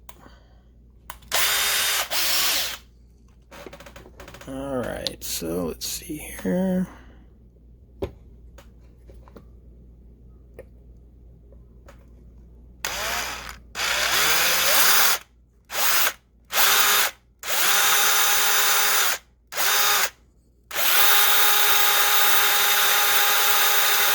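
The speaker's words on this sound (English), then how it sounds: "pour a little dab of oil on here to make the drilling go a little bit easier" A power drill bores into an oiled part on a 1975 Corvette Stingray in repeated bursts, several short whirring runs and then longer loud grinding stretches separated by silent pauses, with brief talk early on.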